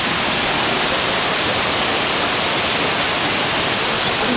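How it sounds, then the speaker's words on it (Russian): A waterfall roars nearby as a loud, continuous, dense wash of falling water that holds steady throughout, with no voices. "Мы подходим все ближе к этому водопаду."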